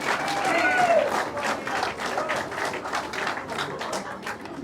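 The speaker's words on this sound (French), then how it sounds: "Applaudissements" Applause fills the hall at a medal ceremony of the Francophonie Games, a sustained round of clapping from the audience that holds for several seconds with some speech mixed in.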